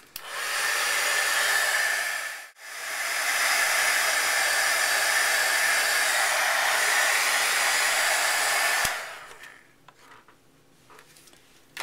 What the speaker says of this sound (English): Now I'm going to use my heat gun and set this embossing powder.